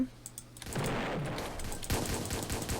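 Rapid bursts of Roblox gunfire crackle in quick succession, fairly quiet, with sharp repeated shots throughout.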